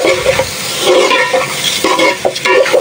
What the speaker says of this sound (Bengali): 10 মিনিটের মতো ভাজি জালটা একটু কমায় দিচ্ছি